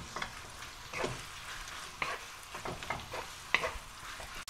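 Pork marinated with baking soda is stir-fried in a pan, with close, irregular scraping stirs over a quiet sizzle and a few sharp clinks of the utensil.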